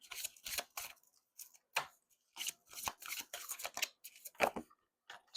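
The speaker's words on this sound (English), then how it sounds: "2 more shuffles." Several quick bursts of riffling and flicking card sounds, separated by short pauses, close and fairly quiet.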